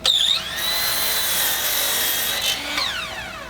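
A power saw cuts about three quarters of an inch off the end of a wooden board in a woodworking shop, a loud, steady high whine sustained for nearly three seconds, rising at the start and winding down at the end.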